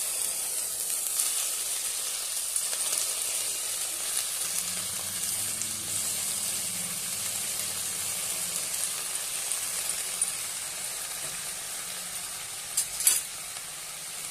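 Washed tandulja (amaranth) greens hit a hot pan with a steady, close frying sizzle and hiss that holds evenly throughout, broken near the end by a brief sharper crackle.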